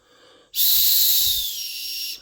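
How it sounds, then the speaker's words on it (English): After a faint breathy start, one long shrill blast from a small survival whistle built into a plasma lighter and flashlight combo sounds close by, blown as hard as possible, holding steady for over a second before cutting off. "There's probably a whistle here. A very bad whistle."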